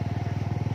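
A motorcycle rides along a narrow road in Sitio Tuoban, Barangay Santa Cruz, its engine pulsing in a steady rapid rhythm, close and fairly loud throughout.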